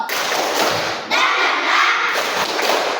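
Children in an Indonesian classroom doing the tepuk semangat clapping routine, a burst of loud, dense group clapping and thumping filling the room.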